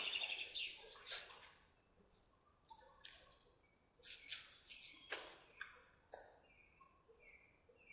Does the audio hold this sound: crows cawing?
yes